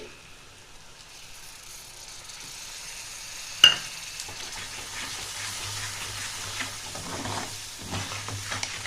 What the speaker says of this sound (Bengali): কষিয়ে নিচ্ছে এটা ভালো করে।